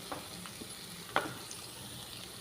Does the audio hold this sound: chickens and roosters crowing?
no